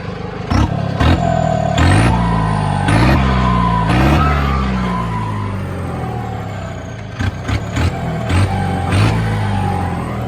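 A Arjun 605 turbo tractor with a leaking oil pipe revs repeatedly, its engine pitch rising and falling in surges over a heavy diesel rumble with some clatter, loud and close.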